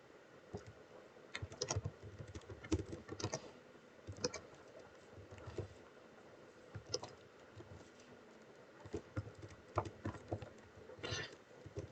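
Fingers type C code on a computer keyboard, irregular bursts of soft clicky keystrokes with short pauses between them, quiet and close, with no speech.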